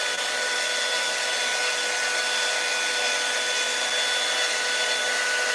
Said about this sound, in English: what I love about this blow dryer is that it gives your hair like some really nice shape and body and volume